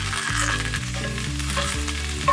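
Rendered beef tallow sizzling in a hot pan, a steady, loud, close frying hiss with faint stirring movement and no voices.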